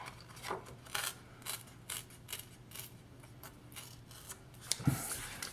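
Material is torn by hand into a straighter strip: faint, intermittent rasping rips and soft crackles repeat unevenly over a quiet background.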